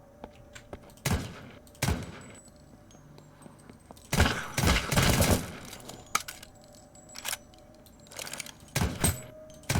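Gunfire rings out in the zombie game Deathly Stillness: sharp, loud shots come singly and in quick clusters, with a dense volley midway, separated by brief quiet gaps.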